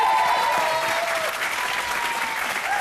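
Studio audience at a reality TV finale clapping loudly and continuously, a dense, sustained burst of applause.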